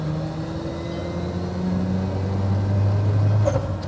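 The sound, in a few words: Mazda RX-7 single turbo engine idling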